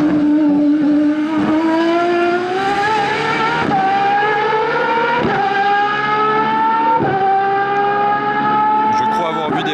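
An Aston Martin Valkyrie race car accelerates hard on a circuit, its high-pitched engine note climbing steadily through several sharp gear changes, loud and close, with excited voices briefly audible.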